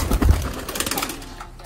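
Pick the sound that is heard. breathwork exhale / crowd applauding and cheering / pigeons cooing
pigeons cooing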